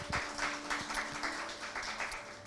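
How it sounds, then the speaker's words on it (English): An audience claps for speakers at a talk, a steady patter of applause that sounds modest and somewhat distant, continuing without a break. "Can we give speakers both a round of applause?"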